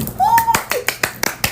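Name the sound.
hand clap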